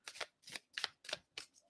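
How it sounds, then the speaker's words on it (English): A deck of joke cards is shuffled in five quick riffling bursts, each a short papery flutter spaced evenly, close and fairly quiet with no talking. "shuffle the deck of the cheesy jokes so we don't get the same ones last week"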